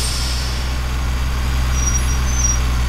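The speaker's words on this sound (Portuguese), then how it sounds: "como se tivesse as pastilhas de freio pegando" A truck's brake pads squeal in GTA San Andreas: a thin, faint high whine rises briefly over a steady, loud low engine rumble near the end.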